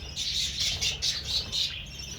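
Budgerigar chicks and adult birds in a breeding setup give a run of rapid, high-pitched repeated chirps and calls in pulsing bursts, close and fairly loud, without any talk.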